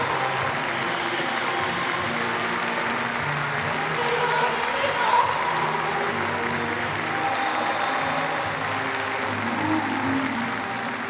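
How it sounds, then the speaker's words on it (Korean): Enthusiastic applause fills a performance hall, a broad, steady roar of clapping that swells slightly midway and continues for about eleven seconds under a faint voice. "장내에는 격정의 파도가 세차게 일어번지고 열광적인 박수가 터지올랐습니다."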